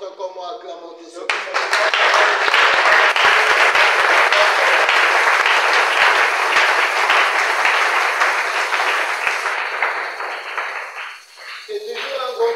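A church congregation bursts into loud, sustained applause and clapping that fills the room for about ten seconds, then fades, with a few voices over it near the end.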